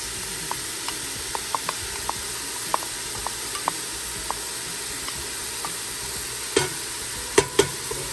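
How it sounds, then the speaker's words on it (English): Onion and red and yellow bell peppers sauté in a pot for a Venezuelan sancocho, giving a steady soft sizzle with sparse light utensil taps and a few louder knocks near the end. "Now I'm going to add the yellow or orange and red pepper."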